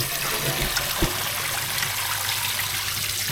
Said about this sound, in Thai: ไปล้างมันหมูครับด้วยน้ำเปล่าด้วยน้ำสะอาดนะครับ